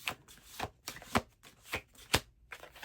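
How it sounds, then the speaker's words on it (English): A deck of tarot cards being shuffled close up by hand, a rapid series of soft riffling flicks and slaps in an uneven rhythm, quiet and with no voice over it. "shuffle the freaking card so that, like, I have a card coming out"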